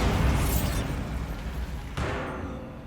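A blasting spell explosion in Hogwarts Legacy: a booming burst that fades away, then a second sharp blast about two seconds later, set in dense game ambience with no speech.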